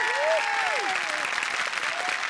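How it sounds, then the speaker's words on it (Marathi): Steady applause from a studio audience on a Marathi comedy show, continuous clapping at an even level with whistling tones sliding over it. "जोरदार टाळ्या."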